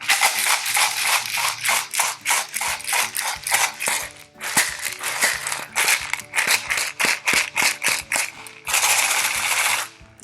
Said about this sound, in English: When we put seeds or other small items, even dry pasta, inside of these containers, we call these maracas.